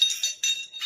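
A steel glass with a loose rattle piece inside is shaken, giving bright metallic jingling in short bursts, close and fairly loud, with no voices over it.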